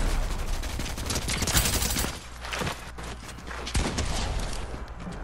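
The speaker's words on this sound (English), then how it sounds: "got him with the shotgun" Rapid bursts of gunfire from a shotgun in the Fortnite video game, loud and dense over the opening seconds, then a few sharper isolated blasts amid steady game noise.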